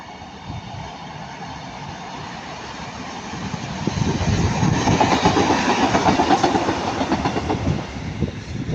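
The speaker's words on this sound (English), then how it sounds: "we're going to have a pair of Northern 150s going to Manchester Piccadilly" A pair of Northern class 150 diesel trains passes at Ardwick on the way to Manchester Piccadilly, a rumbling roar that swells as the train nears, with rhythmic clickety-clack of the wheels.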